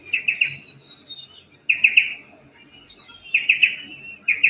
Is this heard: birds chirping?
yes